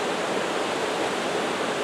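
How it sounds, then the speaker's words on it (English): River Rother flood water pours out through the open gates of the Scots Float Sluice near Rye as a loud, dense, unbroken roar of rushing water. "the gates are open and they're letting the water and the flood waters out of the Rother to float down the last bit of the river"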